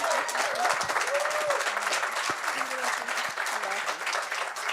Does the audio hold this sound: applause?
yes